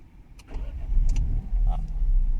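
A 2018 Peugeot 3008 with a 1.2 PureTech 130 hp petrol engine starting up, a low rumble that rises and settles into a steady close idle, with a few light clicks and no talk.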